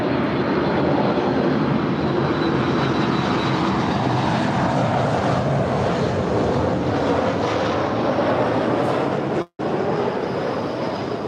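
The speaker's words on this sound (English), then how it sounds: "And that is United Flight 2009 from Houston, 737 MAX 9." United Airlines Boeing 737 MAX 9 jet arriving from Houston at LAX, a steady broadband engine roar that holds loud for the whole stretch, with one brief dropout near the end.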